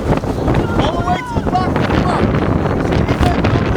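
Gusty wind roars steadily across the mic at an outdoor girls' soccer game, a loud, constant rumble with faint voices underneath.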